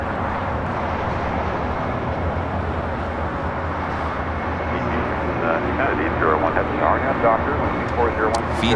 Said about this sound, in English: Fiji, flight 810, coming from Nandi, A350-900, touching down here on the south side